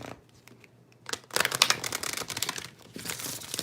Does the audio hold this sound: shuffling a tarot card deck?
yes